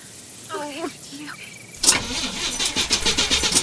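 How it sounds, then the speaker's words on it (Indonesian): A car engine in a tense film scene cranks and sputters without catching, a quick run of rhythmic starter bursts following a quieter stretch where a voice speaks. "Lengkap sudah kepanikan Mary karena mobilnya mendadak mogok."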